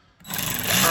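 Mac 12V cordless ratchet whirring up on its variable speed trigger, starting from near silence and rising steadily in a brief close burst.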